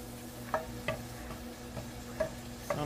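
Green onion fries in a pan, a soft continuous sizzle broken by regular light clicks and taps of a utensil against the pan, roughly every half second, with a low hum underneath.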